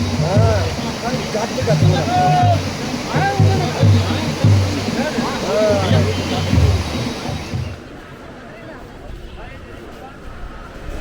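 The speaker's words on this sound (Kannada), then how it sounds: "ಅಲಕ್ನಂದಾ ನದಿ ಇಲ್ಲಿದೆ ನೋಡಿ" Rushing water of the Alaknanda river at Badrinath, a loud steady roar running under a voice, then cutting to quieter ambience near the end.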